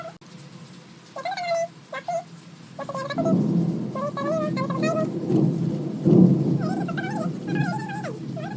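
Heavy monsoon rain with rumbling thunder outside a home, a steady loud downpour with deep rolling rumbles, overlaid by repeated high meowing or chirping calls close by.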